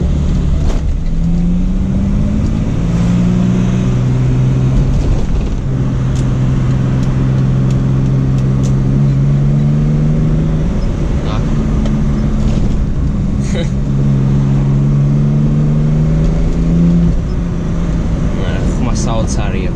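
A 1985 BMW 320i E30 engine drones steadily while driving, its pitch climbing and settling through gears, with someone talking over it throughout.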